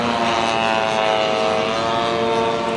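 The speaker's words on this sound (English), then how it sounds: "Seaplane, float plane." A radio-controlled float plane at an RC airshow, its propeller engine giving a loud, sustained buzzing drone with steady harmonic whine, close and continuous, with no voices over it.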